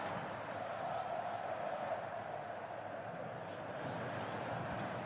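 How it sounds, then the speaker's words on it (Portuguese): Steady roar of a large football stadium crowd at a 2011 Brazilian championship match between Flamengo and Corinthians, a distant, even wash of noise with no distinct chants standing out. "Olha a torcida."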